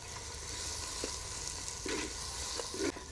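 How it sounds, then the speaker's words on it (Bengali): Salted onions fry in oil in a clay pot, giving a continuous soft sizzle with a few faint scrapes and taps from stirring, close but quiet. "পেঁয়াজটা ভাজা হয়ে গেছে"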